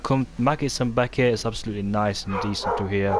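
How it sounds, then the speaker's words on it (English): A dog barks and yips under steady close talk as one voice carries on speaking throughout; the yaps come in short bursts mixed into the speech. "Apologies about the dog in the background"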